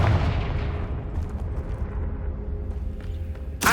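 A Confringo blasting spell bursts in the video game Hogwarts Legacy, a loud, broad boom at the start that rumbles and fades over several seconds, ending with a sharp crackling hit.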